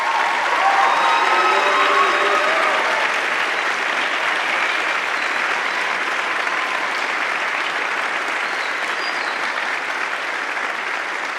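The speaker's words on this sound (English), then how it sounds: "Can we give them a round of applause, please?" A campus band concert audience applauds the band members with sustained, even clapping that holds at full strength throughout, while a few faint whistles or voices come through near the start.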